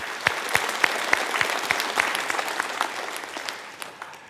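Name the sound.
applause from the congregation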